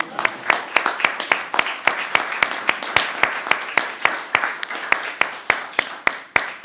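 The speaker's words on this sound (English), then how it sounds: "That's an applause line now. You guys can clap." Scattered, sparse hand clapping from a small audience at a medal presentation ceremony, distinct individual claps in an uneven rhythm, fairly close and continuous for several seconds with no talking over it.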